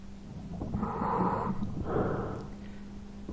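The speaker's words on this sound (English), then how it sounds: "Can you hear the breathing?" A diver breathes through a rebreather underwater in the video game Arma 3, two slow hissing breaths heard close and fairly faint, with no talk over them.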